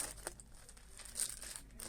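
Packaging around a new laptop keyboard is unwrapped, giving quiet, close crinkling and tearing sounds in small irregular bursts, with no voices.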